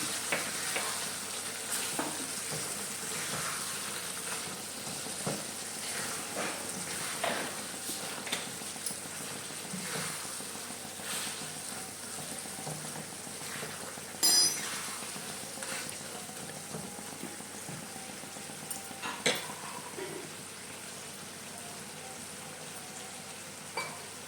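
Lemon pieces sautéing in a pan for a lemon pickle, a continuous low sizzle with scattered scraping and clinking stir strokes, close but soft, no talking.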